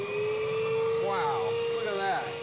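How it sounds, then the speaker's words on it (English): A Metro-Vac automotive vacuum runs with its front cover removed, held against a wall to show its suction, giving a loud steady motor whine with pitch sweeps as airflow changes while someone talks over it. "That vacuum really has some suction power."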